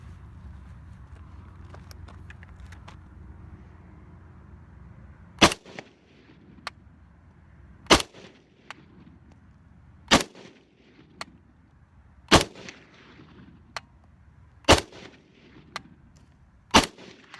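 A PTR-91 rifle fires six sharp, loud single shots at a slow, fairly even pace, each with a short echoing tail, after a low rumbling background.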